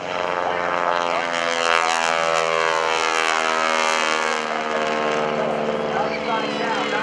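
Aerobatic propeller airplane flown by John Mohr at the 2012 NAS Oceana airshow, a loud sustained engine drone with shifting pitch as it maneuvers, continuous and fairly near.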